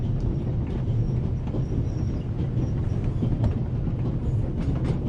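A train rolls steadily along the tracks in a video game, a loud continuous low rumble with faint rhythmic clacking throughout and no talk.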